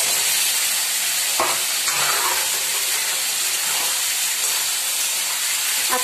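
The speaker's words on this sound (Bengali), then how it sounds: "তেল ছেড়ে দিয়েছে, ছিটছে তেলগুলো, মশলাগুলো প্রচুর ছিটছে" Oil and spices sizzle and spatter hard in a frying pan, a steady, close, dense hiss with scattered sharper pops throughout and no talking.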